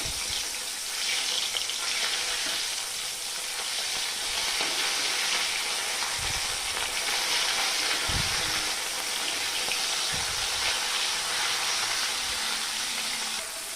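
Bhangon fish fry in oil in a pan with a steady, continuous sizzle, plus a few brief low clunks of handling partway through, and no voices.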